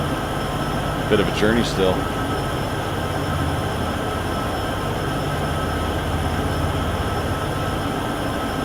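Union Pacific freight locomotives in Train Sim World 6 work together hauling grain up a 1.5% grade near Cheyenne–Laramie, giving a steady low diesel rumble and drone throughout, with someone talking briefly early on.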